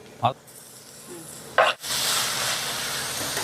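Shallots and onions with curry leaves and green chillies sizzle in a pan for a dried-fish thokku, the frying hiss rising and holding steady after two brief knocks of utensils.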